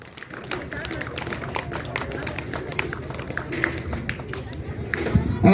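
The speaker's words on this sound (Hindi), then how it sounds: "जोरदार तालियां होनी चाहिए मेहमानों के लिए।" An audience claps for guests at a school Republic Day ceremony, dense scattered applause under a speaking voice, swelling slightly toward the end.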